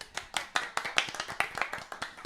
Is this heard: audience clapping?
yes